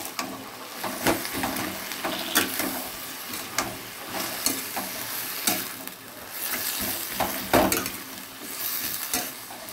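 Fish being stirred in fish oil in a pan, with a steady sizzle and frequent scraping, clattering stirs at an irregular rhythm, close and moderately loud.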